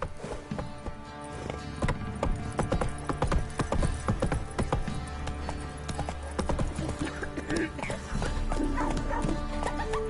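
Roach, the horse in the video game The Witcher 3, gallops with rapid rhythmic clip-clopping hoofbeats, loud and continuous, with a voice speaking over the riding.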